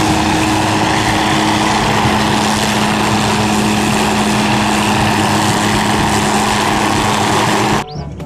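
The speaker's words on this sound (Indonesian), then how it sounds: "Wah, ada helikopter." A loud, steady helicopter engine drone with a constant low hum, close and continuous, then abruptly cut off near the end.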